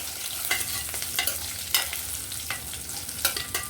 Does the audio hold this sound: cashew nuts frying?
yes